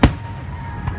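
A firework bursts at the Stanford fireworks show with a sharp, loud crack, followed by a low rumbling tail and a second, fainter pop near the end.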